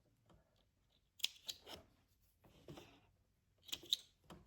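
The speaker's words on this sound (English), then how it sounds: "Go ahead and cut off any loose threads here." Scissors snip loose threads from freshly sewn pants during a pant-lengthening sewing project, a few quiet, close crisp cuts in two short clusters with near silence between.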